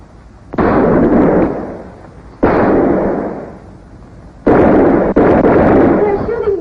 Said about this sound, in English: They're shooting back.